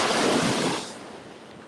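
Ocean waves break on the beach at Panama City, Florida. One loud, close surge of rushing surf washes in and then fades to a softer hiss, mixed with some wind and no voices.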